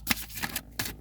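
Oversized tarot cards are riffled in two quick bursts of papery shuffling, close and brief, with a short pause between them.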